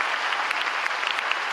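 Loud, dense applause from an audience at a police promotion event, a steady close patter of many hands clapping throughout the short stretch with no speech over it.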